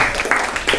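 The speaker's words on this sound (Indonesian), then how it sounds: "Tepuk tangan buat Rizky." A class of students clapping hands for a classmate, a short burst of dense, steady applause from a group in a classroom, fairly loud and without talk over it.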